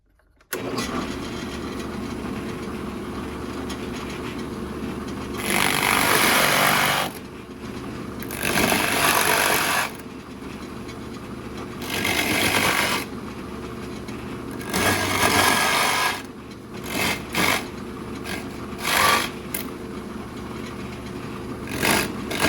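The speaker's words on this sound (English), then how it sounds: "as you're drilling over these steps, sometimes the Forstner wants to pull a little bit" A Forstner bit boring into a carved wood duck body driven by a power drill, heard as repeated bursts of whirring drilling between a steady motor hum, several separate passes, close and loud with no talking.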